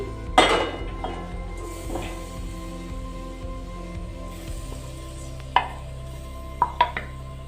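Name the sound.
stirring ground ash gourd in ghee in a pan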